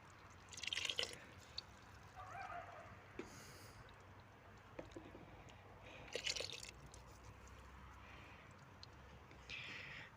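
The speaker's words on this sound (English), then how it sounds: "This is still bubbling, even though it's off the heat." A creamy tuna pasta bake in a pan, just taken off the heat, keeps bubbling with soft, irregular pops and wet blips scattered over a quiet background.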